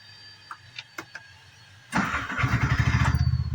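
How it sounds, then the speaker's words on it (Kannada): An auto rickshaw engine cranks and catches at about two seconds after a few faint clicks, then settles into a loud, steady, throbbing idle close by. "ಸೊ ಗಾಡಿ ಸ್ಟಾರ್ಟ್ ಮಾಡ್ಕೊಳುವ"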